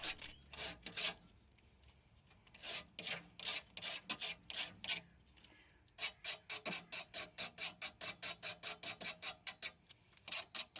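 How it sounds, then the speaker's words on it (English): The back of a Swiss Army knife saw blade scrapes rust in quick rasping strokes, first in uneven bursts and then a fast regular back-and-forth rhythm, close and alone. "So I take my Swiss Army knife and use the back of the saw to scrape away some rust into a nice"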